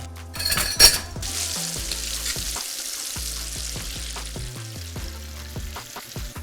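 Starch-coated chicken deep-fries in hot oil, a steady close sizzle and crackle with occasional clinks and stirring sounds and a louder burst of bubbling near the start.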